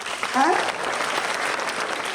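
An audience claps in a steady, dense burst of applause at a Rotary women's day celebration, with a voice briefly heard over the clapping.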